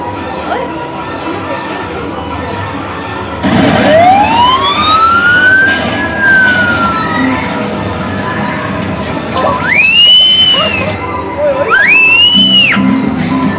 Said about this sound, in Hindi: ईशू ने अपना सायरन भी बजाना शुरू कर दिया।